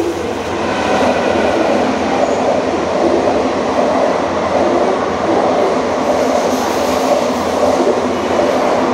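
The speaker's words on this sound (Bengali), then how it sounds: "আজকের মতন আমাদের এই শেষ ট্রেন" A train runs past at close range near Memari in West Bengal, a loud, steady rumbling roar of wheels and carriages that holds constant throughout with faint rhythmic clatter and no talk.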